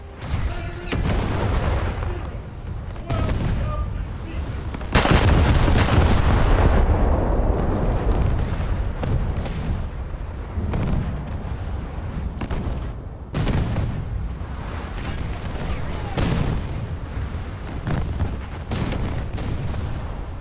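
Naval artillery in a warship video game: repeated heavy cannon booms and shell impacts, loud and close, arriving in irregular salvos with rumbling decays between them.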